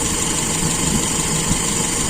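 Motorcycle engine idling after its carburetor air screw is adjusted, a loud, close, steady mechanical hum with a thin high whine on top and a faint rise in pitch, with no talking.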